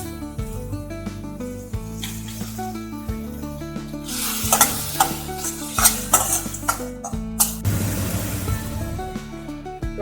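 Onions with salt frying in a pan for a Kerala-style kadle curry: a loud, continuous sizzle mixed with repeated scraping and stirring strokes from a utensil, close up, with music playing underneath.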